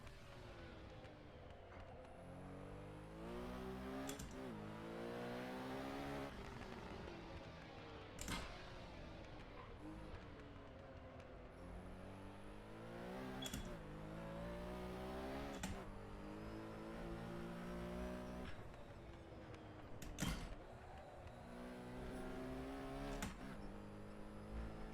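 A Porsche 917K racing engine on a night lap of the Nordschleife in a racing game, a howling engine rising through the revs and dropping sharply at each gear change, repeated shifts and steady wailing throughout, no voices.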